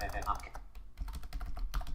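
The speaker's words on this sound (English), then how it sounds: "And I type KILLALL." Fingers type quickly on a computer keyboard, giving a close, fast run of light clicking keystrokes with a brief pause in the middle.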